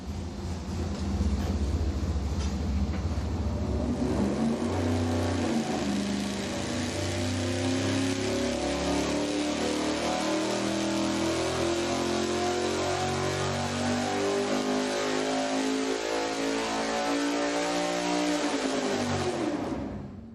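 A V8 on an engine dyno, fitted with a regular weight flywheel and a normal harmonic balancer, sweeps up through the revs at a steady 300 RPM per second, a loud continuous roar rising in pitch before cutting off at the end.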